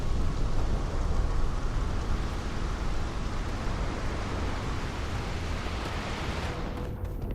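Steady, dense rain hiss with a low rumbling undertone fills a thunderstorm in the Starfield game, set in a city powered by lightning; the downpour stays constant and loud throughout before the high end briefly thins near the end.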